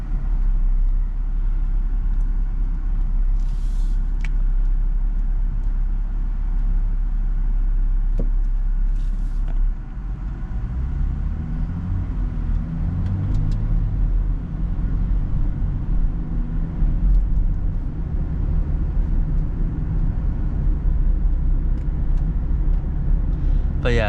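A 2011 BMW X3 with about 200,000 miles drives along steadily, its low road and engine rumble continuous and fairly loud, with a brief shift in tone midway.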